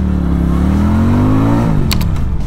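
A QJ Motor SRV 400, a 400cc cruiser motorcycle, revs up under acceleration, its engine note climbing steadily and loud, then dipping briefly near the end with a faint click or two.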